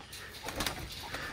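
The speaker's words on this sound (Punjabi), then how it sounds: "ਆਹ ਕਬੂਤਰਾਂ ਨੂੰ ਚਲੋ ਮਿੱਤਰੋ ਆਪਾਂ ਹੁਣ ਖੋਲ੍ਹ ਦਈਏ" Pigeons being let out of their cage give a brief, soft cooing, faint and close, with no one speaking.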